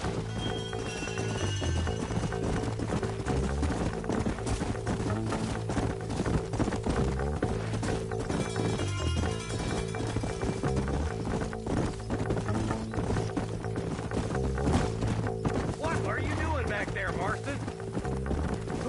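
Horses' hooves clip-clop in the Western video game Red Dead Redemption, a steady rhythmic trotting beat under a game music score, with voices talking over it.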